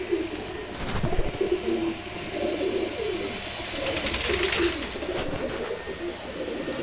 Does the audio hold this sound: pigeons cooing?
yes